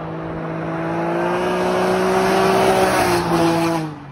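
A Can-Am Ryker 900 three-wheeler accelerates hard, its exhaust note rising steadily in pitch as the revs climb, loud and close, then easing off at the end.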